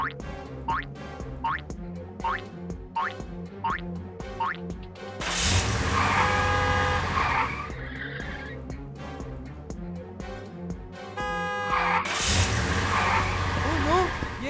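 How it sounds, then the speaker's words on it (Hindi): A speeding cartoon car with a runaway carrot barrels toward the listener, a loud engine-like roar with skidding, tire squeals and boing-like effects bursting in after bouncy cartoon music, under animated voices. "कार तो मेरी और ही आ रही है।"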